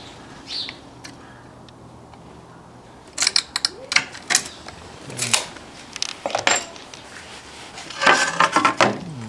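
A glass cutter scores a sheet of aquarium glass, making short bursts of gritty, ticking scrapes after a quiet start, several distinct strokes in sequence with a denser scratching run near the end.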